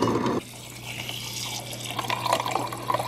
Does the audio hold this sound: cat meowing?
no